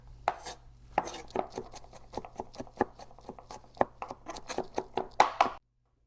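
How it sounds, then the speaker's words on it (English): A knife chops fresh garden garlic and rosemary together on a cutting board, about twenty crisp, close taps in a quick, uneven rhythm that stops abruptly. "Give them both a nice chop together"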